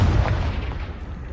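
A Confringo fire-blast spell explodes in the Hogwarts Legacy video game, a deep, loud, rumbling boom that fills the short moment and fades slightly.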